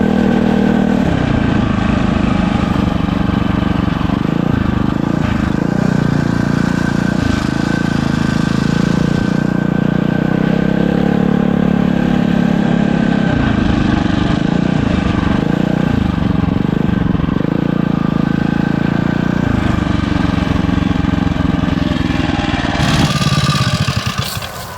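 An all-wheel-drive hybrid dirt bike revs hard through a hot lap, its engine droning loudly and steadily with repeated rises and dips in pitch, up close for nearly the whole stretch before cutting off at the end.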